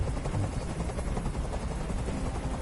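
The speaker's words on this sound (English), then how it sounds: "Tell that helicopter to get out of here." Helicopter in the video game Detroit: Become Human, a steady rotor drone and thump that fills the whole clip at moderate level, with no voices over it.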